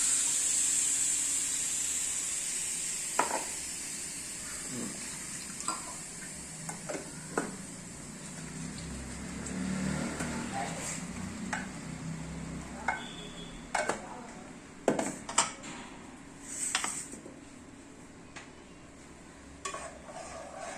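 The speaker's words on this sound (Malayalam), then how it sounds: "ഇളക്കി കൊടുക്കുക അരപ്പ്" Ground roasted masala paste, loosened with a little water, is stirred in a pan in a home Indian kitchen, giving intermittent spoon scrapes and clicks over a soft steady sizzle, with no talking.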